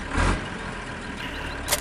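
A tractor engine runs steadily in Farming Simulator 15, a low continuous rumble with a brief burst of noise at the start and near the end.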